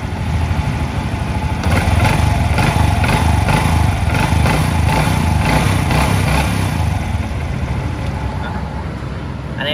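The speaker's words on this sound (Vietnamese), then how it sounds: "máy ro êm lắm." A 2004 Honda Future motorbike with its original engine idles smoothly and steadily, a loud close continuous mechanical hum with no talk over it.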